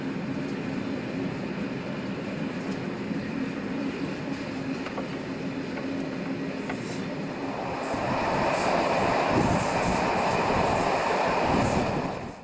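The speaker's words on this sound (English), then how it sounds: "This is the British military train bound for Berlin-Charlottenburg." British military train bound for Berlin in 1990, heard as a continuous rolling rumble of wheels on track with faint clickety-clack, swelling louder and brighter toward the end as speed and noise build.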